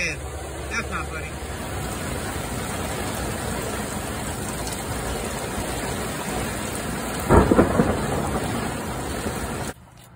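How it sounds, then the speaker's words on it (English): Heavy rain pours steadily during a thunderstorm, a dense wash of noise throughout, with a louder thunder rumble or crack breaking through near the end. "It's raining so fierce."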